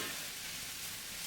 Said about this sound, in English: We are not frying it on high heat because we don't want to burn the onions.